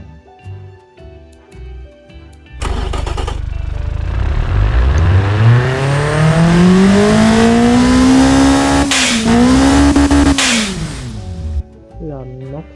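A tuned Ford 1.5L EcoBoost engine in the Automation video game revs hard, climbing steadily to a high-pitched scream near 8,600 RPM, holding, then dropping off, loud and close with no talking over it.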